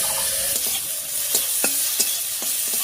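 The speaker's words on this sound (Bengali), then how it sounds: "এবারে মাছ ভাজার এই তেলের মধ্যে দেবো পেঁয়াজ কুচি।" Chopped onion sizzling in leftover fish-frying oil, a close steady hiss broken by several sharp scraping clicks of a spatula stirring the pan.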